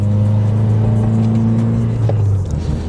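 A pro-tuned 2020 Subaru WRX engine drones steadily and close on the road, with a deep, even hum that eases slightly near the end. No voices.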